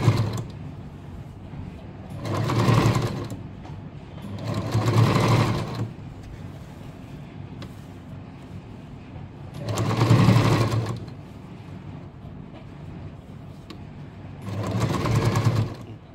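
A sewing machine stitching a chudidhar top runs in four short bursts of a few seconds each, a whirring mechanical rattle separated by quiet pauses, close and moderately loud.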